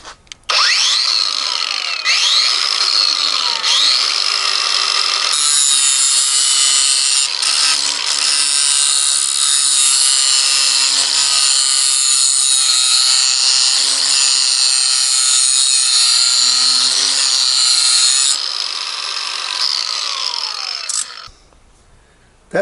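A 4.5-inch Inventor angle grinder with a cut-off grinding wheel sharpens a lawn mower blade held in a blade fixture, a loud, close, continuous high whine with shifting scraping tones that runs for about twenty seconds before cutting off.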